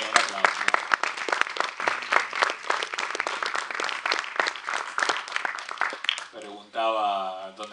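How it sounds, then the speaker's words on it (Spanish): Audience applause at a film festival book presentation, clapping spread through the hall under an announcer's voice, then a louder swell of applause near the end. "un aplauso."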